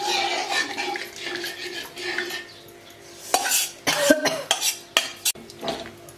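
Bajra flour batter stirred in a pot over low heat, with scraping spoon strokes and clinks against the metal rising toward the end, close and fairly loud, a faint sizzle underneath, no speech.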